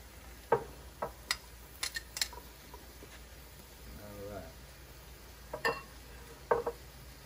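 Onions and peppers being stirred together with filet mignon pieces in a hot pan for Philly cheese steaks: scattered scraping clicks and light clatters of the utensil against the pan over a faint steady sizzle.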